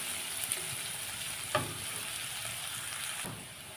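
Onions sauté in a pan for idli upma, a steady close sizzle with a couple of brief scrape accents from stirring.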